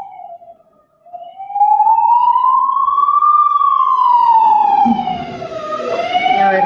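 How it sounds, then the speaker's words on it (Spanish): An emergency vehicle siren passes outside, a loud wailing tone that rises and falls steadily for several seconds, growing louder as it nears, with traffic rumble underneath. "A ver, que pase la sirena."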